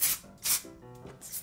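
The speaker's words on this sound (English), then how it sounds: "So I'm gonna spray a little texture spray in here." Short hissing bursts of texture spray from an aerosol can, misted onto hair during flat-iron styling. The puffs are brief and faint, and a soft rubbing sound runs beneath them.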